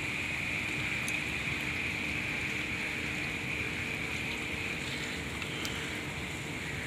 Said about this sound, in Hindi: बारिश के ड्रॉप्स हर जगह गिर रहे हैं